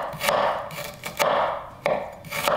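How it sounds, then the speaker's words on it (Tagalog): A knife thinly slicing ginger on a cutting board for beef pares, heard as four distinct close chopping strokes, each a crisp knock followed by a short rasp, spaced roughly evenly. "Hinihiwa ko ng manipis."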